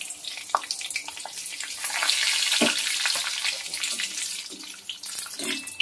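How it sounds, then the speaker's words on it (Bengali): Cashews fry in oil in a pan, sizzling and crackling steadily, a bright hissing fry with small pops, close and fairly loud. "হালকা লাল লাল করে ভেজে নিতে হবে কাজুটাকে"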